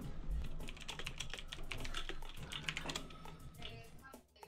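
Rapid clattering of computer keyboard keys being typed on during a game session, continuous and fairly close with an irregular rhythm throughout.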